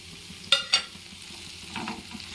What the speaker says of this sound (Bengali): এগুলো একটু ভেজে নিচ্ছি।